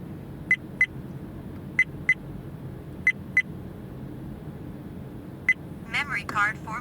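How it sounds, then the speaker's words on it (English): A VIOFO WM1 dashcam gives paired short electronic beeps at steady intervals after a memory card format, over a low engine hum, followed by a brief burst of chirpy tones at the end. "the dashcam will keep beeping until it starts recording again"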